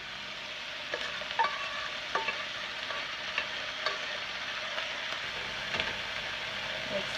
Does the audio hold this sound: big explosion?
no